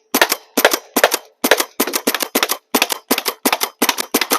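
Gunshots are fired at a pressure washer in a rapid string of a dozen or more sharp, loud cracks, some in quick pairs, each close and punchy with brief silent gaps between.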